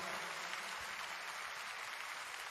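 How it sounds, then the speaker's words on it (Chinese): A concert crowd at a retirement gala show gives a faint, distant wash of steady applause, even and unbroken throughout. "俾多啲掌声，辉哥好嘛？"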